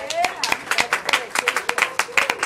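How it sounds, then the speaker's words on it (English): A small audience at an anniversary show claps in a sparse, uneven rhythm of distinct hand claps, fairly close, with a voice talking over it. "let's get a round of applause for that, please"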